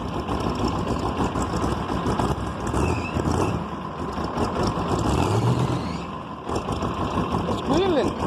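A V8 6.2-litre diesel engine idles steadily after a cold start, a loud continuous rumbling drone throughout, with a brief high squeal near the end.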